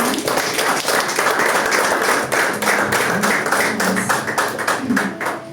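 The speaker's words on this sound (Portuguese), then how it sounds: "Uma salva de palmas ao Senhor." A church congregation at a Sunday service applauds with loud, dense, sustained clapping that carries on steadily, with a few voices faintly mixed in beneath.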